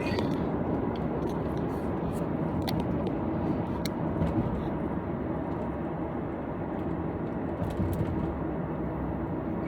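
A 2020 Toyota Camry accelerating toward 55 on the road, a steady, loud broadband rumble of engine, tire and wind noise that holds evenly throughout with no voices.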